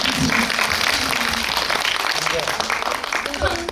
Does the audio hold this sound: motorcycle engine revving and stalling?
no